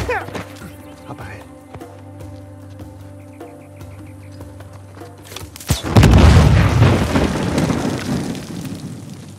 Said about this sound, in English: Actually, Nadine hasn't given up on excavation by explosions.